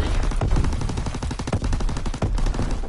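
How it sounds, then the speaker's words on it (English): An enemy aircraft makes a strafing run in a video game, loud and close: a continuous stream of rapid machine-gun fire that hammers without a break. "Enemy strafing run inbound"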